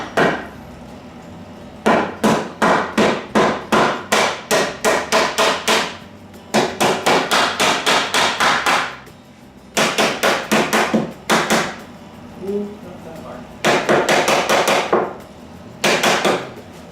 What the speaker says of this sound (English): I had to get a hammer because it's a little tight